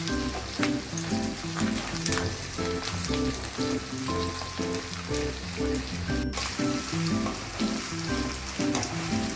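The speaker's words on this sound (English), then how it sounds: "Give it a nice mix on high flame. Fry it until the onion becomes translucent" Onions fry on a high flame in a pan for prawn coconut curry, a steady, close crackling sizzle with a rhythmic rustle of stirring running throughout.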